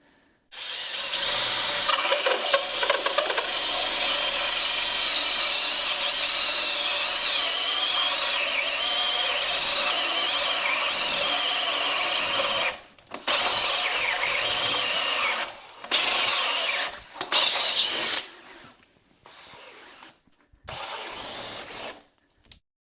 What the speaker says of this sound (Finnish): Kokeillaan sitten tuohon vesivaneeriin, niin tää on 52 millinen terää, reikäterää ja sitten tää on 18 milliä paksu vaneeri.